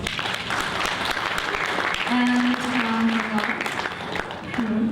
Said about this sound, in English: Ladies and gentlemen, please give applause.